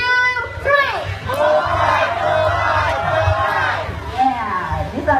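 A bird show audience in a Kuala Lumpur bird park shouts together in a loud, sustained collective cheer lasting several seconds, with crowd babble rising and falling throughout.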